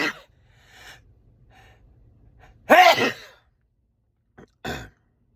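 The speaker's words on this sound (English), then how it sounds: "I have to sneeze." A single sharp sneeze, preceded by a few faint breaths and followed by short gasping breaths in an otherwise quiet room.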